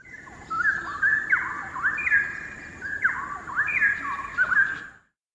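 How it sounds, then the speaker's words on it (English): A straw-headed bulbul sings a loud, rich, bubbling song of warbled whistled phrases, repeated in two bursts over about five seconds, close and clear above soft background noise. "This one is the straw-headed bulbul"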